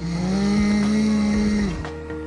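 A loud, steady droning snore with a low rasping tone holds for about a second and a half, then fades out.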